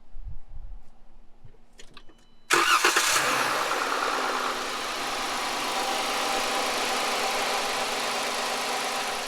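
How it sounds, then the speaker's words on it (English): Van engine turning over and catching at about 2.5 seconds, then running steadily and loudly at a rough idle for the rest of the clip, after a few faint clicks and rattles in a quiet start. "I'm gonna get her to go ahead and crank it up and see how she runs"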